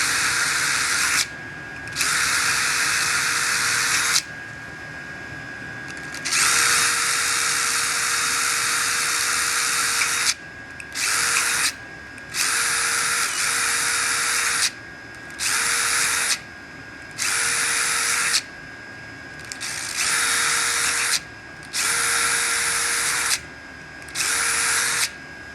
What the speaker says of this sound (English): So just taking a drill and drilling a bunch of holes